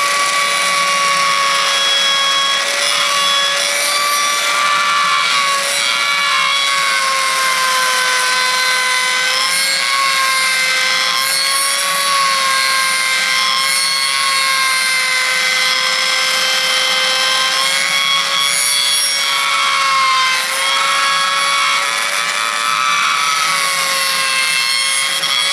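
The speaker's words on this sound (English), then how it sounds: "I found it a little bit easier just to take a router and actually cut some of it out first." A router cutting into wood while shaping a long box turkey call, a loud sustained whining tone with steady pitch and faint wavering, continuous and close for the whole stretch.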